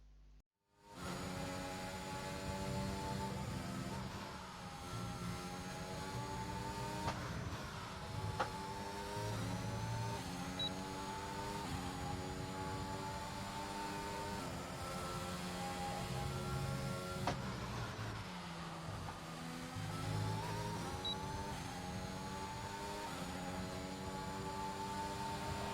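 A McLaren Formula 1 car on an outlap in F1 2021, its engine whining steadily with repeated rising and falling pitch sweeps through gear changes, running continuously without speech.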